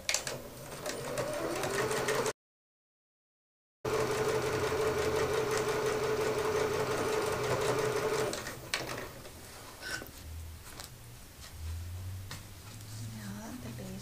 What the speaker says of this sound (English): I need to stitch all the way across the base.